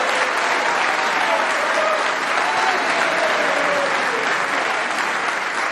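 A snooker crowd at a Champion of Champions semi-final between Judd Trump and Barry Hawkins applauds, a dense, loud and steady clapping that carries on unbroken for several seconds.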